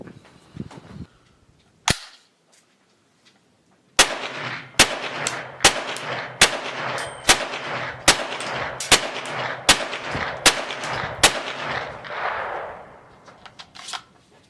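A Kriss Vector SBR chambered in .22LR firing at a range, with two isolated shots followed by a rapid string of about a dozen sharp, loud reports, each with a short ringing tail.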